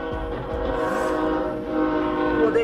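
A train horn sounds loud and close at a rail crossing, a sustained multi-tone blast that holds steady for nearly three seconds with no talk over it.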